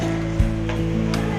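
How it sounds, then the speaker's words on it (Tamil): Jaggery dissolved in half a cup of water boils in a pan, giving a brief, soft bubbling sizzle with a steady low hum beneath it. "வெல்லம் கரைஞ்சி நல்லா வந்து கொதிச்சிட்ருக்கு."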